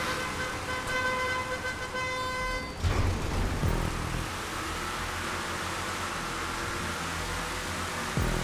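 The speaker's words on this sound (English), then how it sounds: "Dixie horn, or whatever it's called" A musical Dixie horn sounds from an off-road vehicle racing in GTA, a sustained multi-note tone for about three seconds before breaking off, followed by steady engine and tire noise.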